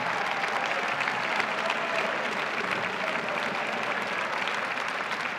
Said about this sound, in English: We'll applaud you.